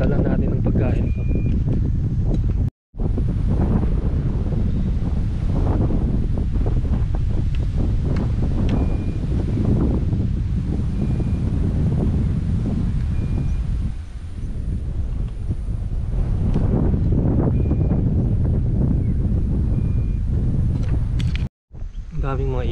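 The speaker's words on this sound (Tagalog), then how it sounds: "Sarap ng hangin, no?" Strong wind on a mountain trail on Mt. Gulod in Tanay, Rizal, buffeting the microphone in continuous loud gusts, with brief dropouts and occasional quiet voices underneath.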